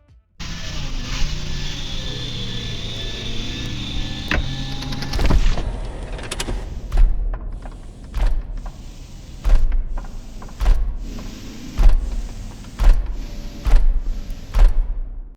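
Robotic sound effects built from car sounds: mechanical whirs and motorized whines give way to a series of sharp, rhythmic clanks and thumps, like a machine stomping along in regular steps.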